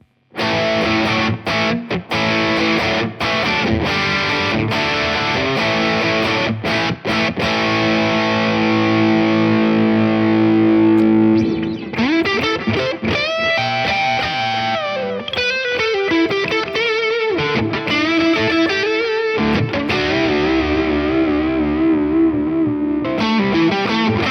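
Electric guitar run through a BOSS SD-1W overdrive pedal into a Marshall JCM 800 amp, playing loud, crunchy sustained chords before moving into punchy distorted riffs and bending single-note lines, with no talking.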